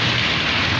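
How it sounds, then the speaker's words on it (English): Heavy rain pouring in Kenya, a loud dense hiss of water falling and running, steady and close throughout a brief moment. "Heavy rains here in Kenya."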